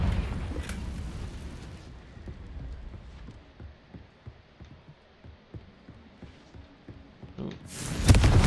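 Confringo fire spell blasts in a video game, a muffled explosive burst at the start, scattered crackling debris and a louder blast at the end.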